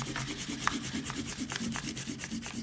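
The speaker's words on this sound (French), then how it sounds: "Ok, on peut gommer nos traits de construction." An eraser rubs back and forth across paper, clearing pencil construction lines from a drawing of a Pokémon emoji; the scrubbing is close, steady and rhythmic, with no voices.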